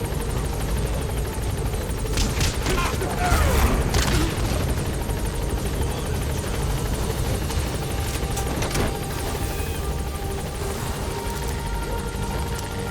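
A helicopter in Metal Gear Solid 5 drones steadily with a loud, continuous rotor chop and engine whine, swelling briefly then holding close and constant throughout.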